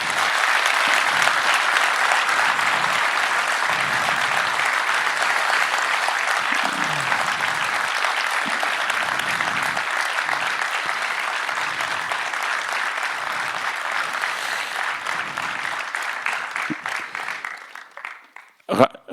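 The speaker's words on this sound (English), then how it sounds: "Let's make some noise for Ryan and all his work." Loud, sustained applause and cheering from a conference audience at an API Platform event, a dense crowd clapping continuously for nearly twenty seconds before tapering off at the end.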